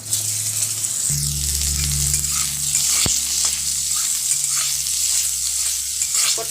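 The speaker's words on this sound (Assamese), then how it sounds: "এতিয়া মই আলুখিনি ভাজি ল'ম" Potatoes fry in hot oil in a wok for a restaurant-style mixed vegetable curry, with a constant close sizzle, occasional stirring scrapes and a sharp clink partway through.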